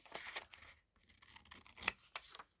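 Scissors snip through paper for a craft card project, a few quiet, close crisp cuts and rustles spaced irregularly with brief pauses between.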